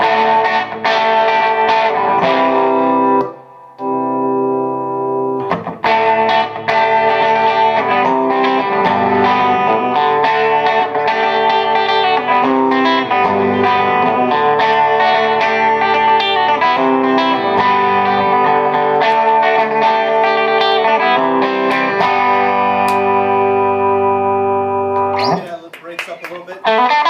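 Electric guitar played through a tube amp pushed into power-tube overdrive, giving a gritty, sustained distorted tone; dense chords and lead lines ring continuously and loudly with a brief gap early on, and no one talks over it.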